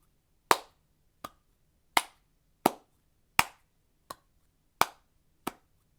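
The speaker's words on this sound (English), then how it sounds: "And a flat hand clap." Eight flat-hand claps in a steady rhythm, roughly every 0.7 seconds, with alternating louder and softer sharp smacks. They are close and bright against near silence, with no talking.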